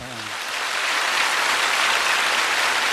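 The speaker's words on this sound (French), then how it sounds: "Applaudissons pour tous les membres de la chorale" A church congregation at a Sungrak Church service applauds the choir; the clapping begins softly and quickly builds into a sustained, even hiss of many hands, like heavy rain, after a brief low voice at the start.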